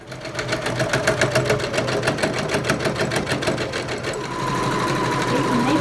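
A sewing machine runs a thin quarter-inch seam around a fabric pillowcase, its needle clattering in a fast steady rhythm, close and loud, before settling into a smoother hum near the end.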